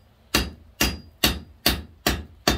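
Six evenly spaced, ringing hammer blows on hot steel while forging a firepit poker, close and loud with short pauses between strikes and no talking.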